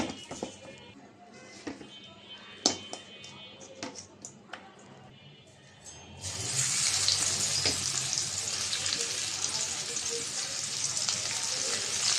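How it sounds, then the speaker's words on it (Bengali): Faint scraping and clinking give way to a loud, steady hiss of chapa fish, seasoned with turmeric, chilli powder and salt, frying in a pan, which continues to the end. "মাছটা ভাজা হচ্ছে"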